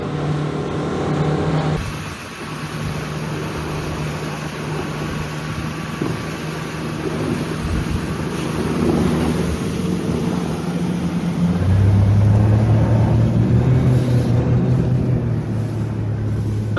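A motorboat accelerating as the power trim is adjusted, a loud outboard engine drone with rushing water and wind that climbs steadily and deepens to a stronger roar near the end.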